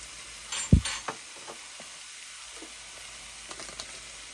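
One and a half pounds of sausage lands in a hot pan, with a sudden thump and a burst of sizzle at first that settles into a faint steady hiss broken by a few light clinks.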